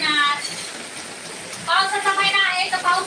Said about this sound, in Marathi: अचानक लय पाऊस चालू आहे